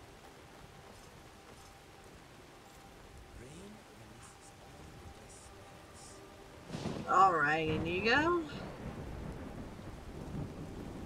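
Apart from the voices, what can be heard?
rain and thunder in the video game Skyrim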